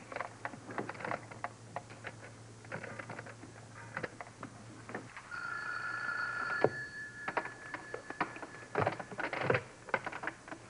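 A telephone is handled and dialed, with scattered clicks and taps followed by a clear ringing tone through the earpiece and more clattering handset sounds.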